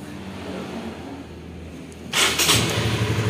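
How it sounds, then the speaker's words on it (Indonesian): A motorcycle engine starting from cold catches after a steady background hum, then runs with a louder, rough idle close by; no speech. "Start ini posisi dingin ya, motor posisi dingin."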